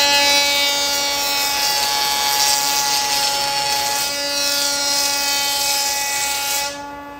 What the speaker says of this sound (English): Tapering on a jointer.